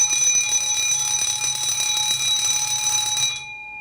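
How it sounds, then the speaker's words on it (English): A fire alarm sounds from a Kentec Sigma XT panel, a loud continuous high-pitched tone with a faint pulsing beneath that stops abruptly near the end. "The moment that you acknowledge it by means of muting the panel and silencing the alarms"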